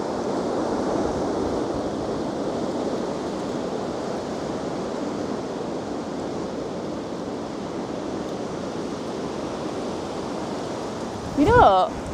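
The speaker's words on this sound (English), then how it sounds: "Have you heard that wind?" Steady, loud wind roars across an outdoor graveyard in the UK, a broad, constant rushing with microphone buffeting, and a brief voice breaks in at the very end.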